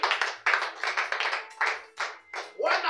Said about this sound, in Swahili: Pigia Yesu makofi mengi.